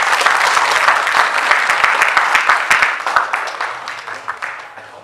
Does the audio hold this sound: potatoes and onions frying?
no